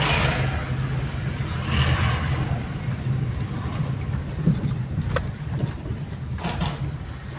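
A large state transport bus rumbles past nearby on a village road, its engine drone swelling and fading amid wind buffeting and background traffic.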